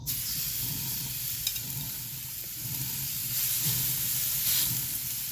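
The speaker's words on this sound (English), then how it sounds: "let's get these burgers on the grill" Smash burger patties sizzle on a hot Green Mountain Grill griddle, a dense continuous hiss and crackle that swells slightly toward the end, close and strong with no talking.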